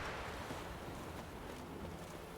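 Steady wind gusting in The Witcher 3 game world, a continuous broadband rush with a faint watery, surf-like wash underneath, even and unbroken throughout with no talk.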